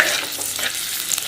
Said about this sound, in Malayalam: എണ്ണ ചൂടായി 2 തരം ഉള്ളി ഇഞ്ചിയും ചതച്ചത് ചേർക്കുക. ആ കൂടെ തന്നെ പച്ചമുളകും വേപ്പില ഇട്ട് കൊടുക്കാം.